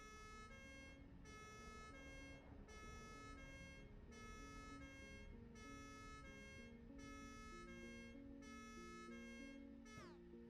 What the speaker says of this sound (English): This car does not have a horn, but if you click a button, you put a siren on top.